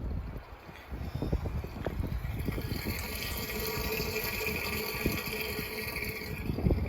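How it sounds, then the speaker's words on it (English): Water running into an RV's fresh-water tank at a fill-up stop near Lake Tahoe, a steady rushing, gurgling flow with wind noise over it, continuous and fairly close, no talking. "We're filling up with water on the other side."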